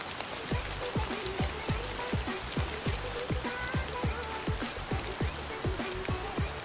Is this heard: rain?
yes